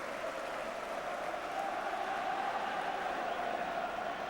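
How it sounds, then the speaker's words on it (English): Football stadium crowd applauding after a home-side goal in a Manchester City v Charlton Athletic or Southampton v Coventry City match, a steady, broad wash of clapping and crowd noise filling the whole clip at moderate volume, heard from a distance. "And listen to the applause."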